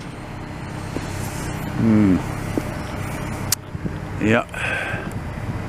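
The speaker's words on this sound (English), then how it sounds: "It sounded vintage. Vintage V8 carbureted." A vintage carbureted V8 car passes on a city street, its low engine rumble swelling by briefly amid steady traffic noise, with a person speaking briefly nearby.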